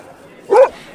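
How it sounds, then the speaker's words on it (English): A boxer dog at a dog park gives a single short, happy bark, close and loud over quiet outdoor background. "Can we get a happy bark from Basil?"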